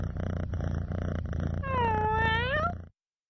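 A cartoon cat in the Diva Starz video game purrs with a low rhythmic rumble, then lets out a drawn-out rising meow before the sound cuts off abruptly.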